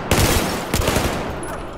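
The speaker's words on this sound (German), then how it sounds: "Maschinengewehr! Sehr schön." Automatic machine gun fire in the shooter game Battlefield 4, a dense rattling burst of rapid shots with sharp cracks standing out, loud and close throughout.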